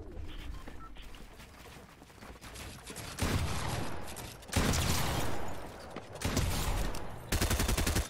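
Fortnite gunfire: loud bursts of rapid shots come in several separate volleys, with quieter in-game ambience between them and no talk.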